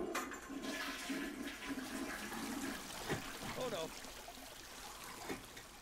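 A cartoon toilet flushes in a bathroom, a loud rushing swirl of water that drains and trickles on, with a voice talking over the flow.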